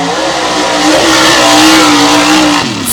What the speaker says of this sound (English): bright red Chevy Colorado called Bad Decision